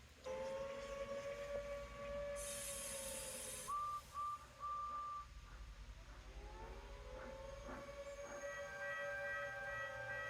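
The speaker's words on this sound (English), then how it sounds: "we could hear sirens blaring in the distance" Power plant sirens wail steadily from a distance, long rising and falling tones layered over a low rumble, with a brief higher whistle-like blast partway through and no talking.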